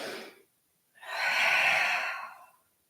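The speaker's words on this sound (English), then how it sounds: "Full breath in and out." A long full breath during a yoga session: a short exhale fades out, then after a pause a slow, audible inhale swells and eases into a soft breathy exhale, close and alone with no talking.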